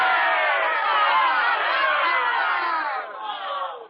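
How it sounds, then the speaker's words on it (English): A big crowd of townsfolk roars a thunderous cheer for their counselors, a dense sustained swell of many voices shouting together that holds strong and then tapers off near the end. "a thunderous cheer."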